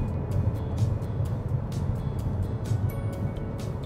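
Steady low road rumble and tire roar from inside a moving 2014 Chevrolet Sonic RS Turbo 1.4T manual hatchback, constant and moderately loud, with no talking.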